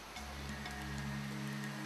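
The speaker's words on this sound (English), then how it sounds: "he's followed closely by the monsoon rains" Monsoon rain falling steadily in Bihar, India, a continuous broadband wash of downpour with a low hum underneath, no voices.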